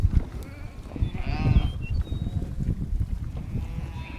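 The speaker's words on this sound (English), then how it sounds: "That's your baby lamb" A baby lamb on a farm gives a short bleat near the middle, set against a rumbling, shuffling background of other livestock and movement.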